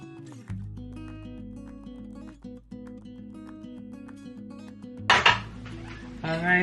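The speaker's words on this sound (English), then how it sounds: "just using a knife and fork, I'm just going to go through and just shred this tuna" Drained tuna shredded with a knife and fork in a bowl, metal cutlery scraping and clinking against the dish in short bursts over a low steady hum.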